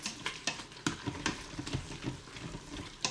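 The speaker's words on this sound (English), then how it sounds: "You're just cooking this until the Parmesan cheese gets nice and melted, because our mashed cauliflower is already cooked." Mashed cauliflower with melting Parmesan cheese is stirred in a hot pan, giving a steady, close run of scraping strokes and soft thumps over a light sizzle, with no voices.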